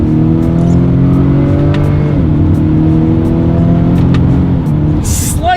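2020 Acura RDX crossover SUV engine revving as gears are shifted with paddle shifters, a loud steady engine tone rising and dipping at shifts from inside the cabin, with faint clicks and a brief burst near the end.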